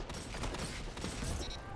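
Rapid bursts of gunfire in Destiny 2, quick cracking shots stacked close together over a short stretch, loud and continuous with no clear talk over them.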